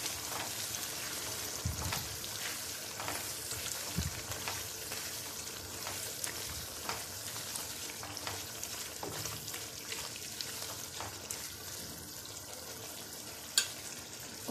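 Boiled eggs being stirred into a frying egg biryani masala, with a steady sizzle throughout and occasional louder scrapes and clinks of the spoon against the pan.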